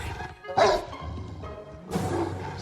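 A dog barks in a film soundtrack: a few sharp yapping barks, one burst early and another later, over a low background hum, fairly close and moderately loud.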